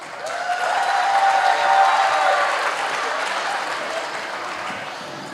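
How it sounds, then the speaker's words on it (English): Audience applause at a school annual event, a steady wash of clapping from a large crowd that swells in the first couple of seconds and then slowly fades. "let's give a round of applause for our next act."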